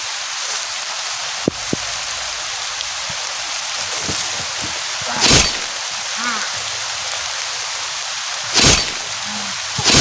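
Steady, dense rain hisses outdoors close by without pause, broken by a few brief louder whooshes and faint knocks.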